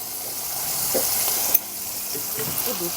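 Soft, steady sizzling of fish frying in a pan, a low continuous crackle with a faint clink midway.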